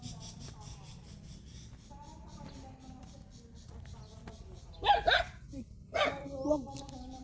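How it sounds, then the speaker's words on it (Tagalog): An angry dog barks in two short bursts, a couple of sharp yaps each, fairly close, over a quiet background with faint distant sounds. "Nagagalit yung aso"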